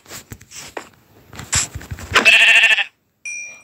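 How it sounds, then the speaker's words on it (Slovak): Several sheep bleats from a Minecraft sheep, blocky game animal calls rising out of scattered footstep-like clicks, loud and close, followed by a brief bright chime-like tone near the end. "Jej, tu je ovca, jej."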